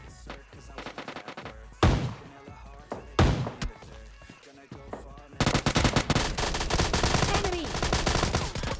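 SKS gunfire in the mobile shooter PUBG Mobile Lite: a string of sharp, punchy shots, some spaced apart and then a denser run of rapid cracks near the end, loud and close.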